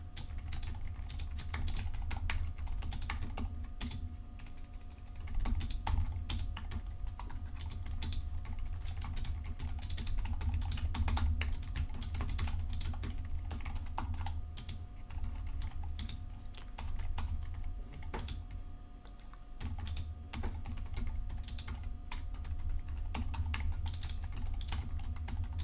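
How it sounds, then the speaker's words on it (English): Someone types steadily on a computer keyboard for a long stretch, rapid close clicks in bursts with brief pauses, no talking. "So what I'll do is just start typing."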